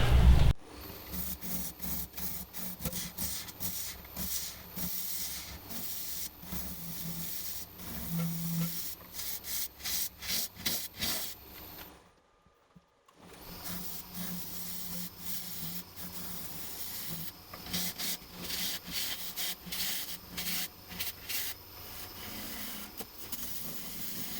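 A wooden goblet being hollowed out on a lathe, with a steady rough scraping, hissing cut broken into rhythmic pulses, stopping briefly midway before resuming, close and continuous with no talk.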